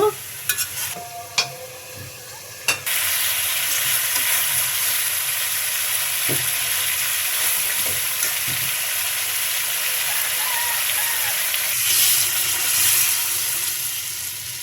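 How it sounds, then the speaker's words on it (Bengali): Hog plums frying with shrimp in a covered pan: a few clinks of stirring at first, then a loud, continuous sizzle that holds steady to the end. "আস্তে আস্তে আমরাগুলো কষানো হবে, ঢেকে দেব।"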